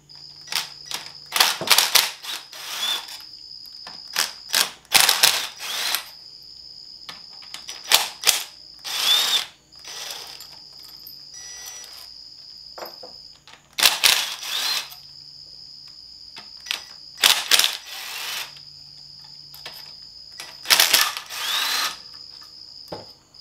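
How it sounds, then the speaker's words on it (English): A ratchet backing out 8mm screws from a 545RFE transmission, loud close clicking bursts in repeated runs with short pauses between screws, no speech. "So you want to take out the 8mm screws only."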